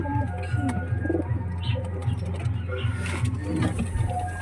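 Pet flying pigeons of the Black Jack breed coo in low, repeated throaty pulses close by, forming a steady rolling murmur with faint background noise.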